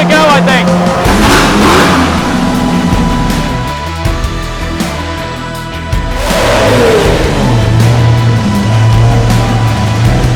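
A Koenigsegg's engine revs loudly nearby at the start of the Gumball 3000 rally in London, swelling twice into roaring bursts with a quieter idling stretch between, alongside other cars and crowd noise.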